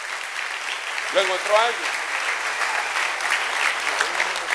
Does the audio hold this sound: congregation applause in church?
yes